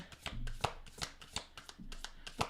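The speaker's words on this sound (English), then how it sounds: "I just cut the deck and want to shuffle again" A tarot deck being shuffled by hand, with a quick series of crisp riffling card slaps and soft rustles repeating close up, no voice over it.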